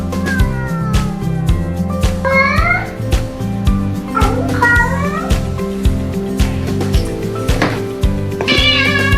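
A cat meows repeatedly around bath time, making several close, drawn-out and wavering calls with small clattering knocks between them.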